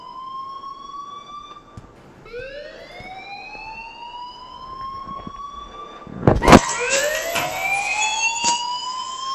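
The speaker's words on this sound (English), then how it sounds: "please turn off that alarm since that's your job" Siren-like alarm in the video game Life is Strange, with repeated rising harmonic wails that restart and grow louder and denser partway through, an overlapping tone joining; no voices.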